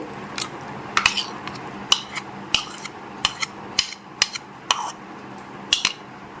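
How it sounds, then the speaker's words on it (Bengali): Yogurt and sugar are whisked in a bowl for dahi vada, a spoon or whisk clicking sharply against the bowl in an uneven rhythm of about a dozen close taps over a soft stirring scrape. "খুব ভালো করে দইয়ের সাথে চিনিটা মিশিয়ে নিতে হবে একটু ভালো করে ফেটিয়ে নিচ্ছি আমি"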